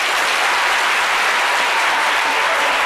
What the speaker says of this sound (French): ovationnez-le par les acclamations